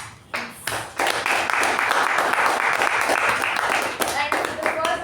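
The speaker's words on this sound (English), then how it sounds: "it definitely requires a huge amount of applause from our end" Applause from a Toastmasters club meeting audience: a brief clap, then a sustained burst of many hands from about one second that keeps going steadily and tapers with a few scattered claps at the end.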